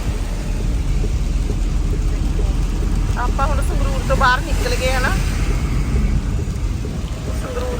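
Heavy rain pours steadily on the Patiala road outside Sangrur, with thunder, a dense broadband roar throughout and someone talking over it in the middle.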